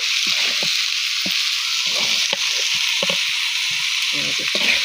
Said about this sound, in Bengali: ভালো করে ভেজে নেব। এই চালটার ঘ্রাণ খুবই ঘ্রাণ